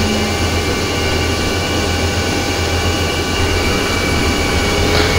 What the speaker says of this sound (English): There's the right engine